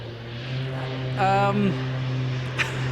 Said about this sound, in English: this time you'll see that he allows the aircraft to torque roll